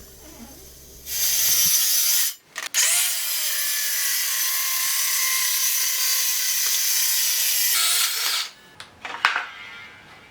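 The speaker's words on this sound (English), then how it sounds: "I took multiple passes with the circular saw to prevent binding and tear out" Circular saw cutting along plywood edges in a jig, a loud close whine that spins up, cuts steadily for several seconds and then winds down.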